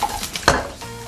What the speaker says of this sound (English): So I am frying them off like really hot